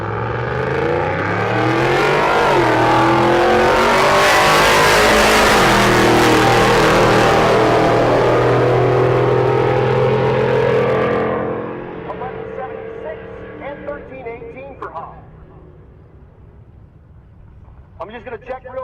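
Kelly Hoff's Chevrolet Camaro race car accelerating hard in the right lane at a drag strip during Rocky Mountain Race Week, a loud sustained roaring engine note that climbs and then cuts off, leaving quieter background noise.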